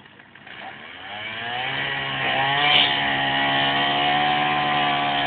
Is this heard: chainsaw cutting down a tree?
yes